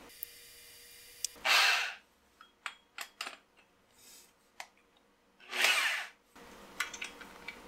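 A power drill bores out Dana 60 axle spindles in two short, whining bursts, separated by quiet clicks and tool handling in an otherwise hushed workspace.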